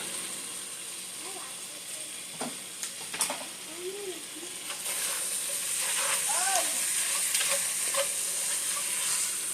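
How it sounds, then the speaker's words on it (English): Onions with a sprinkle of ginger cooking in a pot for a hearty beef stew: a steady sizzle and hiss throughout with occasional stirring scrapes, a few soft clicks, and faint background voice-like sounds. "allow that to finish cooking until my onions are clear"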